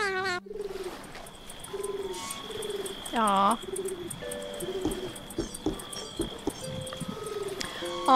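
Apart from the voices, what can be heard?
pigeon cooing in the video game The Supper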